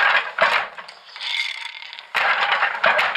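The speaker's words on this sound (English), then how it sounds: "I'm weaving on a Glimåkra Ideal 70-centimeter loom" A Glimåkra Ideal 70-centimeter loom working a 10-shaft satin damask napkin: close, crisp wooden clacks and ratcheting knocks come in bursts, with a brief softer scraping stretch in the middle before another run of sharp clatter.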